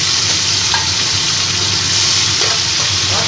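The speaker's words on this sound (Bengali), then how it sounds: "ভালো করে আমি তেলের ওপরে এটা ভালো করে মিশিয়ে নিই" Boiled taro leaves are stirred into hot oil in a pan, giving a loud, steady frying hiss with wet crackling and occasional utensil scrapes close by.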